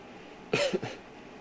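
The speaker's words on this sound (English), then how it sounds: "Sorry, I still have a bit of a cough, but it is getting better." A single short, sharp cough, close and distinct, in an otherwise quiet moment.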